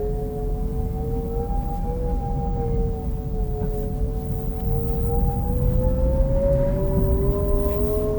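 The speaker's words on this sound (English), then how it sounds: "you can also hear the projected sound that is present on most electric vehicles" A soft, steady synthetic hum with gliding tones slowly rising in pitch, the pedestrian warning sound of a Leapmotor T03 electric car, heard inside the moving car over low road rumble.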